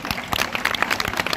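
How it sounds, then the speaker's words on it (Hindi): An audience gathered at a student hostel event claps loudly to welcome a guest, former Chhattisgarh chief minister Bhupesh Baghel, producing a dense, continuous wash of applause. "निवेदन करता हूं जोरदार तालियों से कीजिए उनका सम्मान"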